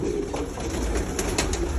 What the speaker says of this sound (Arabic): احنا في اشراف ومتابعة من مزرعة من مزارع الحمام